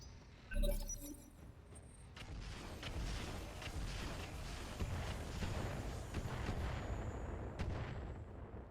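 Missiles and rockets, including SRM-2 short-range missiles, fire in the BattleTech mod RogueTech: a sharp launch burst comes first, then a sustained rumbling barrage of blasts and crackles rolls on steadily.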